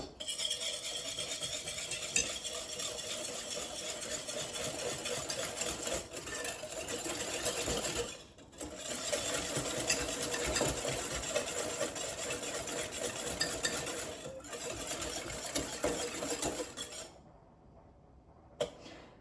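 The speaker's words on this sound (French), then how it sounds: "Je vais donc mettre l'œuf dans le saladier, comme ça, avec le sucre et je vais venir bien fouetter." A whisk beats egg and sugar in a mixing bowl for madeleine batter, a fast continuous rattling whir at close range, pausing briefly twice before stopping near the end.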